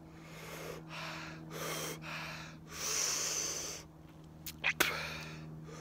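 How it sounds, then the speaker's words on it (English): Heavy, ragged breaths follow chewing hot peppers: several long loud exhales and gasping inhales close to the microphone, then a couple of quick sharp sniffs. "I'll be breathing like this for at least the next 10 minutes."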